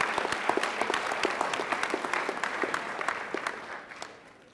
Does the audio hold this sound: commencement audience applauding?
yes